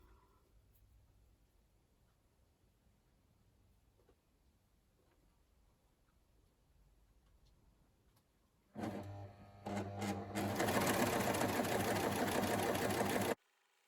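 A sewing machine stitches the edges of a lace band together, running in a loud continuous whir for about five seconds with a short pause near the start, after a quiet stretch of soft handling noise.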